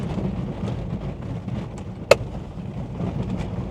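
A Nissan Leaf electric car with a 24 kWh battery, old body style, rumbles steadily over cobblestones, giving a low continuous road roar inside the cabin with one sharp knock.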